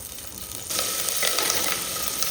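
Chopped ginger, garlic and curry leaves fry in oil in a pan, starting as a soft sizzle and then swelling into a louder, steady crackling hiss.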